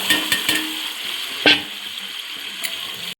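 Boiled peas tipped into oil-separated frying masala for ghugni and stirred, a bright steady sizzle with a few spatula knocks and a louder burst as they go in, close and alone.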